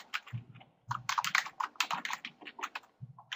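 Rapid, close typing on a computer keyboard while a journal entry is written, bursts of crisp key clicks with heavier thumps from the space bar, fairly loud in a quiet room.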